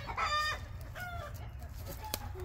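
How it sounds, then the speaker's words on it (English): Agitated chickens on a farm, with several close clucks and short squawking calls in the first half, then quieter scattered clucking against a low rumbling background. "Chickens are freaked out."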